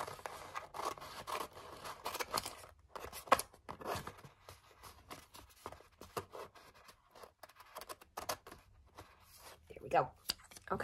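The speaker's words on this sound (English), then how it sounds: "let's go ahead and just trim off this edge here" Scissors trimming the edge of paper for a glue book craft, a run of quick crisp snips and crunchy cuts in irregular bursts, close and fairly quiet, with some talking mixed in.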